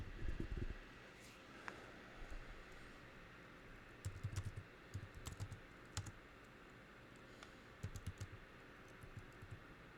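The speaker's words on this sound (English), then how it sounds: "let me type in this" Computer keyboard typing in a quiet room, scattered short bursts of soft, close clicks separated by pauses.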